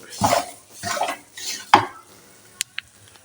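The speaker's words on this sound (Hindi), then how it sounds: "मैंने घी डाल के ना, घी गरम किया है, फिर ऊपर ये इस तरह से ना चने की दाल का जो हमने आटा मंगवाया हुआ है पंजीरी वाला, वो डाल दिया" Chana dal flour for panjiri is stirred as it roasts in hot ghee, giving three scraping sweeps of a utensil against the pan, then a sharp clink and two brief metallic ticks, close by with no voices.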